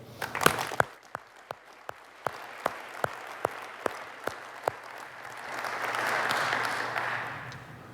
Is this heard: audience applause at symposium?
yes